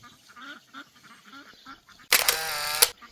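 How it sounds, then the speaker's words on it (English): Ducks foraging in fallen leaves, giving a series of soft quacks and chatter, cut off by a loud burst of mechanical clicking and whirring. "There you go, ducks."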